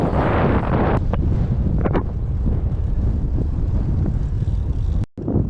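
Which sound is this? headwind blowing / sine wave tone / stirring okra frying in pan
headwind blowing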